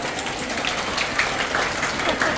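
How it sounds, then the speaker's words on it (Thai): Crowd applause at a gathering in Surin on the Thai–Cambodian border, a steady wash of clapping at even, moderate loudness with no voices over it. "ขอเสียงปรบมือหน่อยดังๆได้ไหม"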